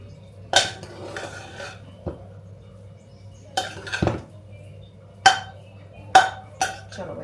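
Metal pots and utensils clink and clatter as peas veg pulao is served, with several sharp knocks and scrapes spaced irregularly over a low steady hum, close by with no talk.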